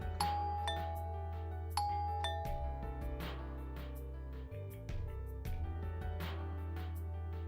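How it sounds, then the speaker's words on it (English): A doorbell in the visual novel game Root Double rings several times in a row, each bright chime ringing out over a low sustained musical background. "When she reached Natsuhiko's house, she tried pressing the doorbell, but nobody came."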